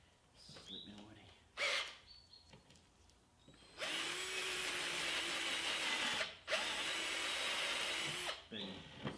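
A power drill with a larger bit boring through a front engine mount on a BMW 335i single turbo, starting with short bursts and then running long and loud, separated by brief pauses and quiet knocking.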